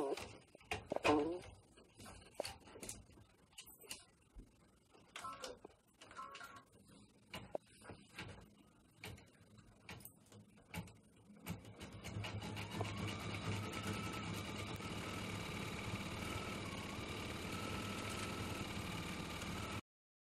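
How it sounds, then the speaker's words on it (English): An embroidery machine sewing a satin stitch, a steady buzzing whir with a constant mechanical hum that starts midway and continues to the end, after earlier rustling and handling noises. "now it's going to sew a satin stitch all the way around"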